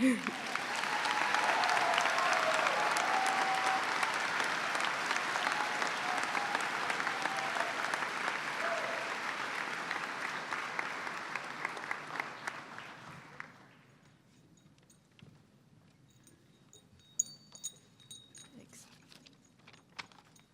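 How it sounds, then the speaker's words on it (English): Sustained audience applause at a high school graduation ceremony, a broad, loud roar of many hands lasting about thirteen seconds before fading to scattered claps, murmurs and occasional knocks in a large hall. "You may now applaud"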